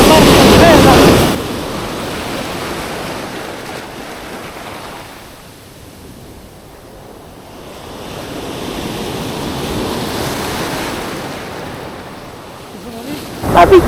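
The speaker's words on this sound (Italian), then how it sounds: "Di nuovo il mare si sta gonfiando" Sea swells roll and wash onto a sandy beach in a steady surging roar, with heavy wind buffeting the microphone at the start and end.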